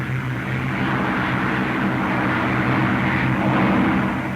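A propeller-driven fighter engine holds a steady, loud droning roar during take-off and climb, continuous and close with no speech over it.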